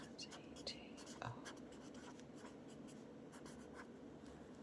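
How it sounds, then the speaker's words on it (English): Pen or pencil scratches across paper in quick, irregular strokes, written by hand for a paper doll crossword collage; the sound is close but quiet, with soft speech faintly present. "So I'm going to write a scary October"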